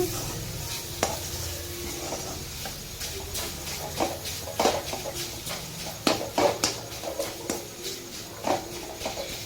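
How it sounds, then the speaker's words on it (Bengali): Carrot nadu mixture being stirred in a pan, soft scraping strokes and light clinks over a faint low sizzle, irregular and close, with no talk. "দেখুন বন্ধু আমরা ভালো করে নেড়ে নিচ্ছি"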